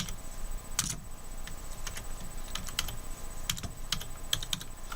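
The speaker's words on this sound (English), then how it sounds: "inside here, I'm just simply going to type in" Typing on a computer keyboard: an irregular run of light, crisp key clicks, close and steady, with no talking.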